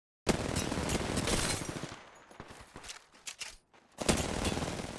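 Rapid automatic gunfire fills an Apex Legends firefight against a Pathfinder, dense bursts up close that thin out into scattered shots before a heavy volley returns.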